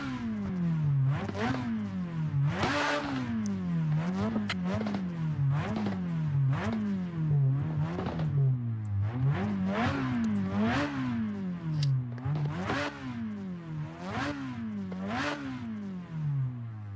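A video-game race car, a PS13 fitted with an SR20 engine, revs hard through repeated gear shifts, pitch climbing and dropping in a rhythmic cycle, loud and close with a rough clattering edge and no talk.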